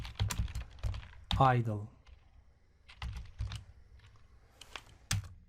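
Typing on a computer keyboard comes in irregular bursts of close key clicks, with someone talking over the keystrokes.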